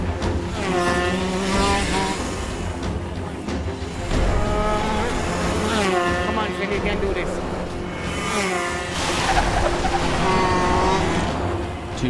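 Young drivers' race cars on a circuit, engines wailing loud and close as they rise and fall through gear changes in a continuous run, with a voice talking over the roar.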